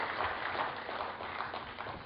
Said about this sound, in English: I request a huge and deserving round of applause from all of you for them